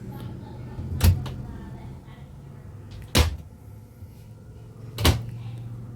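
Overhead cabinet doors in a 2013 Grey Wolf 17BH RV bang shut three times at even intervals, each a sharp close knock over a quiet room hum.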